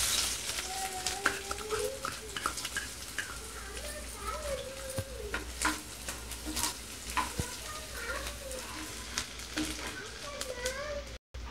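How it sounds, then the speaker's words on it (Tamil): Chopped garlic fries in oil in a kadai for gobi manchurian, giving a continuous crackling sizzle with spoon stirring, while a person talks over it throughout. "கடாய் வச்சு ஆயில் கொஞ்சம் ஆட் பண்ணிக்கிறோம். இப்போ வெட்டி வச்ச பூண்டு துண்டு பூண்டு வந்து ஆட் பண்ணுறோம்."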